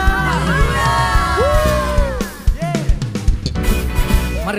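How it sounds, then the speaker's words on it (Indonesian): A church congregation shouts and cheers "hallelujah" during a worship service, a loud, sustained crowd roar with whoops and yells layered over music, rising and falling in bursts. "sorakan haleluya"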